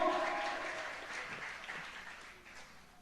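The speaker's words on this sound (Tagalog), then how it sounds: "Mapalakpakan ba natin ng malakas na palakpak ang mahal na Panginoon?" Applause from a church congregation during a preaching service, a broad, steady wash of clapping that fades gradually over a few seconds, fairly distant and alone without talk.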